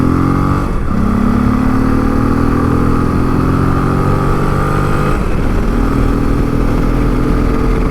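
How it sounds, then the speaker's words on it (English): A Yamaha XT660Z Tenere motorcycle on the move, its single-cylinder engine droning steadily and close with two brief dips where gears change, and no voices over it. "And give the bike a run."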